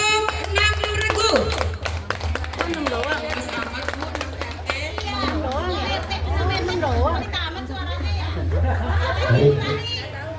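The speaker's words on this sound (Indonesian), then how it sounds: "Beri tepuk tangan untuk 60 regu." A crowd claps for sixty participating teams at a neighbourhood children's quiz competition held for Indonesian Independence Day, with busy children's voices and chatter running throughout the clapping.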